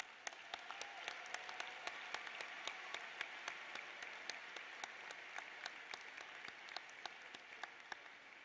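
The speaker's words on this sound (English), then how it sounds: "let's give all of you another big round of applause" A commencement ceremony audience applauds steadily, a dense spread of hand claps with sharp individual claps standing out, continuous for over eight seconds at moderate distance.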